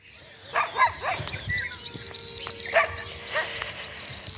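Several dogs bark at some distance outdoors by a house on a windy day, a few scattered barks over broadband wind and background noise, with no talk.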